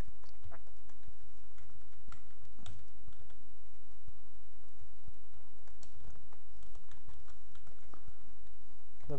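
Typing on a computer keyboard gives a steady, close patter of key clicks that runs the whole time over a low background hum.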